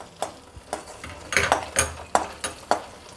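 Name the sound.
coconut pieces frying in ghee in a kadai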